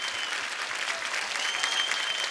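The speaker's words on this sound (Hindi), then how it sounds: "आपकी जोरदार तालियों के बीच स्वागत" A studio audience applauds warmly on a comedy talk show, a dense, steady burst of clapping that fills the short clip without any voices.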